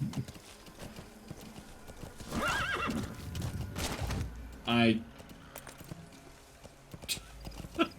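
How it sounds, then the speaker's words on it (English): Hooves clip-clop steadily in a Metal Gear video game soundscape, a horse whinnies sharply midway, and a person talks over parts of it. "Horse, you don't need to keep walking."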